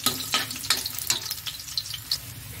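Chopped garlic sizzles and fries in a hot pan while being sautéed until golden brown, with steady crackling and a few stirring clinks. It is close and moderately loud, with no talking.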